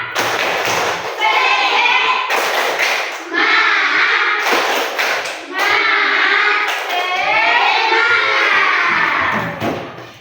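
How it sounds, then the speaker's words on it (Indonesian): Children in an Islamic primary school classroom perform a rhythmic group clap routine, loud bursts of synchronized claps and thumps alternating with chanted voices, repeated in several sections close to the listener. "Tepuk semangat."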